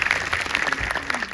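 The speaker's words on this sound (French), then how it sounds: "On peut l'applaudir." Brief burst of applause from an audience at a French film preview screening, close and busy, with a few murmured voices mixed into the clapping.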